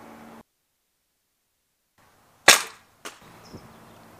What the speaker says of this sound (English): Okay, Kevin, shoot the target